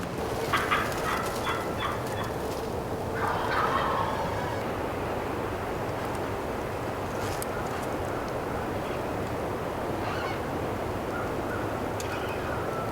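Wild turkeys gobble during a Michigan spring turkey hunt, faint distant bursts rising over steady outdoor background noise, with a few louder calls in the first seconds.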